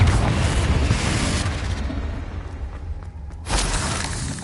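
A Confringo blasting spell explodes in Hogwarts Legacy with a loud, booming burst that rumbles and fades, then a second heavy blast follows near the end.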